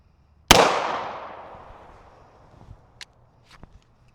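A single sharp, loud 10mm gunshot striking a Tesla battery, with a long fading echo tail, followed by a few faint distant clicks and thuds.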